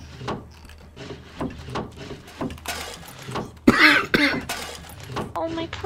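A person coughs several times in short bursts while others talk, alongside clattering sounds from a multiplayer game session.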